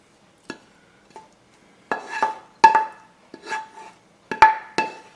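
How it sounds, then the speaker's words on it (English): Sausage mixture spooned from a bowl into a baking pan for a low-carb frittata, heard as a handful of separate soft scraping clinks and thuds of a utensil against the dish, close and sparse with short pauses between them. "grab the sausage mixture and you just want to add it to the bottom of the pan here"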